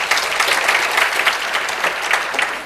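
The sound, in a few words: applause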